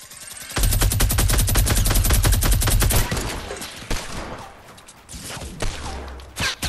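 A fast, sustained stream of shots from a gold minigun roars in a Fortnite match, followed by scattered single gunshots and quieter pauses.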